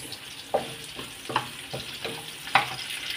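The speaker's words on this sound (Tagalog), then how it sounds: "pinagsama na natin igisa ang bawang at saka sibuyas" Garlic and onion sauté in a hot pan for sardines with loofah, a soft continuous sizzle broken by regular scraping strokes of a spatula, roughly every half second.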